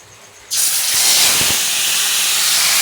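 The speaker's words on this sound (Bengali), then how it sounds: "ম্যারিনেট করা চিকেনটা দিয়ে দিলাম এবার আস্তে আস্তে কষাতে হবে" Marinated chicken drops into hot oil, bursting into a loud, dense sizzle that starts abruptly after a moment of quiet and holds steady, close and unbroken.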